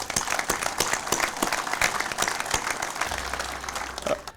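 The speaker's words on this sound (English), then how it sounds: "So one more round of applause." Applause rings out from the crowd at a fire station grand opening, a moderate, uneven spread of claps with a few sharp nearby hand strikes standing out, holding steady throughout.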